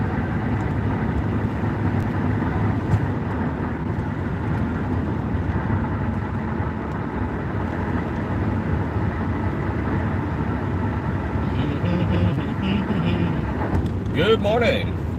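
Car interior on a morning drive of 16 to 20 miles, with a continuous low road and engine drone and wind noise throughout and a brief clatter near the end.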